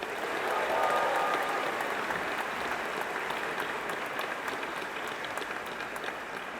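An audience at a swearing-in ceremony for 126 newly approved São Paulo public prosecutors applauds the examining board, a dense, steady wash of clapping from many hands that swells early and holds throughout.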